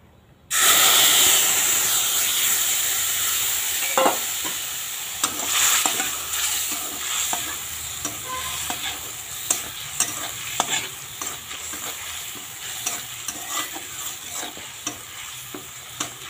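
Poppy seed paste mixed with turmeric and salt hits a hot wok with a sudden loud hiss, then keeps sizzling steadily while a spatula scrapes and taps at an irregular pace, close by with no talk.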